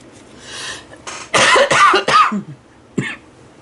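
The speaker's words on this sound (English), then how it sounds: "So that's what this nasty cough is." A close, harsh cough in several rough bursts, followed by a short final cough after a brief pause.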